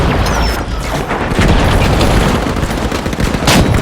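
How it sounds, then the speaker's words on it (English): A rocket launcher fires in The Finals, a multiplayer shooter with destructible buildings, and the rocket explodes amid constant gunfire and crashing debris. The roar is loud and dense from start to finish, with sharp bursts near the start and again toward the end. "RPG away!"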